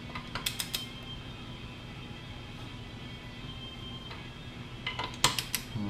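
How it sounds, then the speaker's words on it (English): Metallic clicks and creaks from a torque wrench snugging bolts on a 1996 Sea-Doo XP 787 engine during a rebuild, a quick cluster of ratchet clicks early on and another burst near the end, close and fairly quiet. "You're going to start to snug these bolts down"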